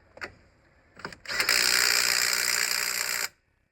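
Power tool tightening track rod end bolts on a Range Rover L322: a couple of short clicks and clanks, then a loud, steady buzzing whir lasting about two seconds that stops abruptly.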